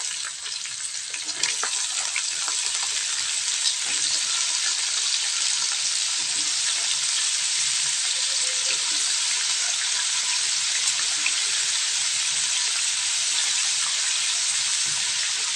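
Freshly picked garden eggplant frying in a pan, a steady, loud, hissing sizzle that holds evenly throughout with occasional faint pops.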